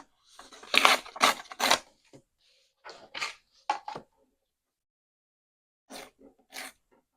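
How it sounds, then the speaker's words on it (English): Several short bursts of envelope paper tearing, loud and close, the first three quick and strong, then scattered quieter rips and a final pair after a pause. "tear off the excess here"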